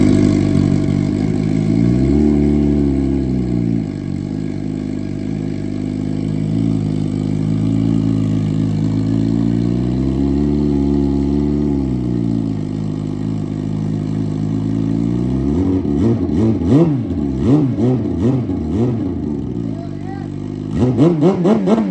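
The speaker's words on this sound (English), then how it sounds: "when you get that cold start and she gets that cold idle and a couple cold revs" A turbocharged Suzuki GSX-R sport motorcycle on a cold start settles into a loud, lumpy idle that rises and falls, then a couple of sharp throttle revs near the end, close and dominant.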